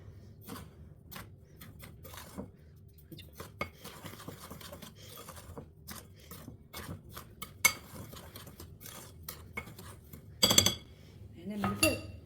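A utensil stirs a juice mixture in a bowl, making a string of soft clinks and scrapes against the sides, quiet and close. A louder rattling burst comes near the end.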